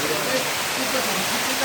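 Heavy rain pours down in strong wind, a dense, steady hiss of water with a low rumble of gusts running unbroken throughout.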